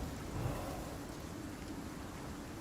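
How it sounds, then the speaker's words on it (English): Steady rainfall in the survival video game Icarus, a dense, even hiss of falling rain with a low rumble beneath, continuous throughout with no talking. "Oh, the rain's putting it out."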